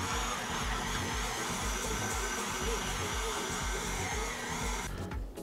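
KitchenAid stand mixer kneading pretzel dough, a steady loud motor whir with a rhythmic low thumping as the dough turns, running continuously before a brief clatter at the end.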